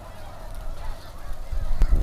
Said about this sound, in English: snow geese mostly